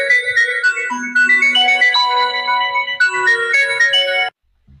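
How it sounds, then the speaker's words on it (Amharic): A phone ringtone for an incoming call plays a bright electronic melody for about four seconds, then cuts off abruptly into silence. "አይ ቲንክ ስልክ እየገባበት ነው።"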